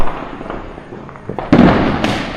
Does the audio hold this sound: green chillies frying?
no